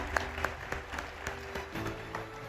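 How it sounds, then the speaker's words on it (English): Audience applause at the India Business Leader Awards ceremony as Jay Shah is welcomed to the stage, a steady wash of clapping with scattered sharper claps standing out, fairly distant and even throughout. "Ladies and gentlemen, a huge round of applause for Mr."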